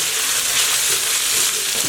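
Chicken pieces frying in hot ghee give a loud, close, steady sizzle that hisses without a break from start to finish, with no voices.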